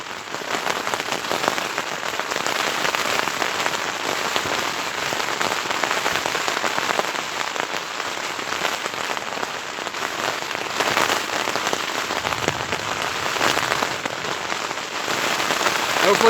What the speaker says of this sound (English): Comes the intense rain.